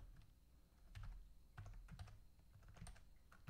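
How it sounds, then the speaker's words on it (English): Soft, close clicking of fingers typing on a computer keyboard, irregular bursts of keystrokes with brief pauses, quiet and without talking. "I'm still getting used to this new keyboard and typing on it."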